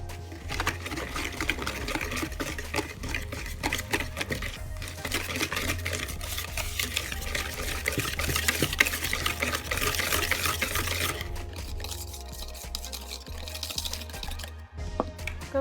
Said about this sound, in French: Et je vais venir fouetter le tout.